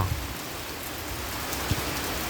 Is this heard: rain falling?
yes